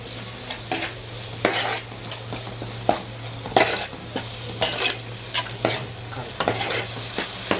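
A spoon scraping and stirring turmeric and ginger paste through sizzling ingredients in a pan for Telangana-style chicken curry, with repeated rhythmic strokes close up over a soft continuous fry and steady hum.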